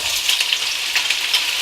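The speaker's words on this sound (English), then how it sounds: "If you can hear the sizzling sound like this, you can fry now." Squid and vegetables sizzle in a hot pan for a Korean stir fry, a bright crackling hiss with small pops and bursts, close and continuous, no talking.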